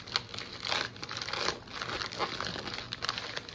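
Plastic product packaging crinkles and tears in a continuous close-up rustle as it is forced open by hand, with no talk.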